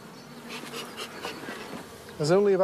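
Honeybees buzz in a hive in a close, steady drone, with a louder swell of buzzing near the end.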